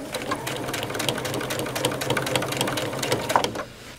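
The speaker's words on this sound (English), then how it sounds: "Now let's stitch backwards." A sewing machine stitches in reverse with a fast, even mechanical clatter of needle strokes, close and continuous for several seconds before it stops.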